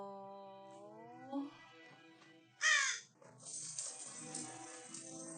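Cartoon raven from a 2017 Ducktales episode giving a loud harsh caw after fading musical tones, followed by a softer scratchy rattle and sweeping effects, with faint voices in the background.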